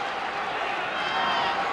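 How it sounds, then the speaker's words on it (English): An arena crowd at a 1993 NBA Finals basketball game between the Bulls and Suns gives off a dense, steady wash of cheering and clapping, with a commentator talking over it. "Now the crowd trying to get the Suns into it early."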